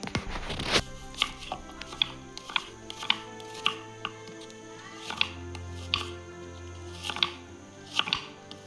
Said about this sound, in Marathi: त्याच्यात कांदा कापून घेते